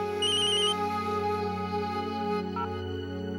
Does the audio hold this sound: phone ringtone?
yes